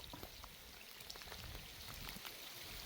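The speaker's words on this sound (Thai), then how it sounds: "ตอนนี้ฝนมาอีกแล้ว" Steady rain patters and drips on surfaces nearby, a continuous soft hiss with scattered louder drops, and no voices.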